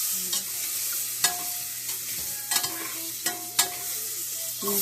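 Shallots and ginger sauté in a pan with a soft steady sizzle, punctuated by several sharp scrapes and clinks of a spoon stirring against the metal, close and fairly quiet.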